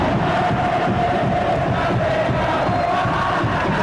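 A stadium crowd at a Madura United vs Persebaya Surabaya Super League match roars and applauds as a tired player is substituted, a continuous, distant wall of cheering and clapping with no break.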